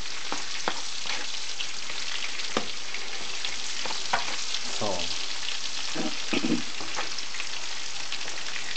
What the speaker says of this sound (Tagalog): At haluin lang natin siya ng haluin.